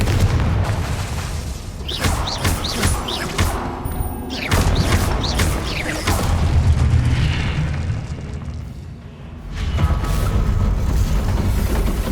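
Repeated explosive spell blasts in the video game Hogwarts Legacy, heavy booms and crashing bursts rolling over one another with brief lulls between, loud and close, amid dense combat noise.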